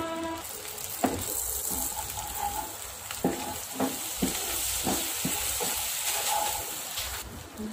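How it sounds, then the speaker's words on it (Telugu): Chili powder frying in melted butter with cumin seeds in a pan, a steady close sizzle with soft scraping stirs and a few clinks throughout. "బటర్ మెల్ట్ అయ్యి తర్వాత జీరా వేసుకున్నామండి ఇప్పుడు ఇందులో కారం వేసుకోవాలి"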